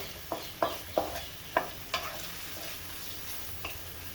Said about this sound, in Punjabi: ਹੁਣ ਅਸੀਂ ਵਿੱਚ ਅਦਰਕ ਤੇ ਲਸਣ ਪਾਵਾਂਗੇ ਇਹਨੂੰ ਮਿਕਸ ਕਰਾਂਗੇ ਥੋੜੀ ਦੇਰ ਲਈ ਥੋੜੀ ਦੇਰ ਲਈ ਇਹਨਾਂ ਨੂੰ ਭੁੰਨਾਂਗੇ